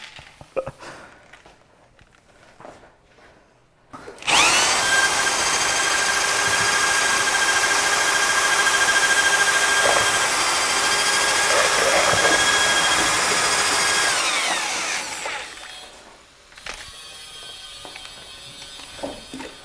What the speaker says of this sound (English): All right, now the fun part is I get to use a drill.